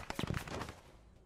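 Rapid bursts of gunfire in the World War II video game Squad 44, a quick cluster of cracking shots up front that trails off into quieter background rumble.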